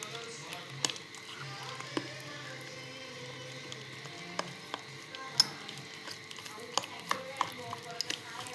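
Semolina and wheat flour dough being stirred and worked smooth in a bowl, giving soft, irregular clicks and squishy taps of a spoon under a quiet background, with a person talking at times.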